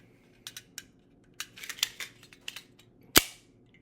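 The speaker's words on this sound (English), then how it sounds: "So when I'm loading it, all right, magazine goes in." A magazine goes into an older style 1911 pistol with a few light metallic rattles and handling clicks, followed by one sharp, loud snap as it seats, heard close with no talk.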